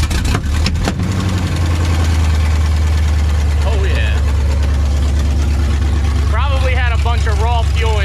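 A car engine turns over and sputters, nearly firing, then settles into a loud, steady low rumble close by, with people talking over it.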